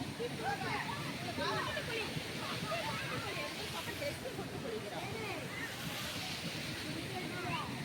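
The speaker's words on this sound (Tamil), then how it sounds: "இந்த நல்லா அருவியில் கொட்டுற மாதிரி தான் இருக்குது தண்ணி" Continuous splashing and pouring water from Thengai Uruli waterfall in Manjolai, with a steady rushing texture, faint chatter of people in the background.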